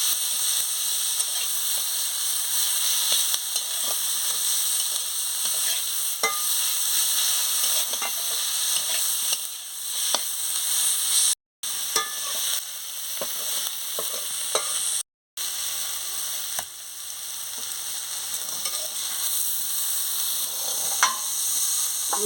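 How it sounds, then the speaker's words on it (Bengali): Pumpkin leaves stirred in a pan with a little oil, giving a steady close hiss and sizzle throughout, with frequent small scraping and tapping clicks from the stirring and two brief dropouts. "সামান্য একটু তেল দিয়ে দিচ্ছি দেখুন কীভাবে আমি নাড়াচ্ছি"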